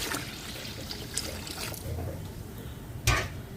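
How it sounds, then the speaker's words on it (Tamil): Coconut milk, second and third extract, pours into a mixer cup with a soft trickling splash, ending in a short louder splash near the end. "இனி இதோட தேங்காய் பால் சேர்க்குறேன்."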